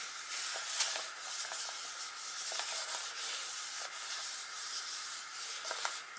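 Wipe rubbed over paint on an art journal page: a steady close-up scratchy rubbing with faint rhythmic strokes, no voices.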